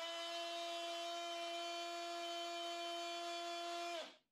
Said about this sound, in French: Et pour le multi-outil